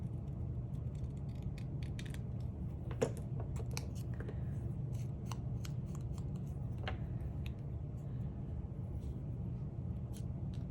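Scissors snip a paper label off a floral journal craft project. Crisp, close cutting clicks repeat irregularly over a low, steady room rumble.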